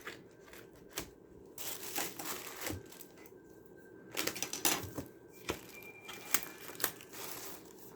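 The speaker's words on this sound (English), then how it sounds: "Let me just cut through this." Paper packaging around a craft paper pad with silver foil is cut through, making faint snips, crinkles and sharp crackling ticks in irregular bursts, close by with quiet pauses between them and no talking.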